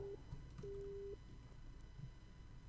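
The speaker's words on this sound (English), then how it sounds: "Serrault hung up the phone" A dead phone line in the video game World End Economica after a hang-up gives short, flat electronic tones, one brief and one longer, over a faint hum.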